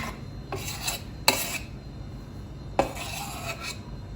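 A spoon scrapes and rubs around a pot of boiling jam in several short strokes, with rasping bursts near and clear, no talk.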